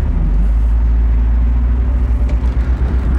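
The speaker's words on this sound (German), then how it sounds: "Guck mal, wenn er fährt, er ist so beeindruckend." A Volkswagen Golf driving just ahead, heard from a following car, gives a strong, steady low engine rumble and road noise that fills the whole stretch without any voices.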